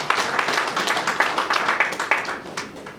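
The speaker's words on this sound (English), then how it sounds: "Let's have a big round of applause for him." Applause from an audience at an outdoor wealth-creation campaign meeting in East Acholi, Uganda: steady dense clapping at moderate distance, with no talk over it.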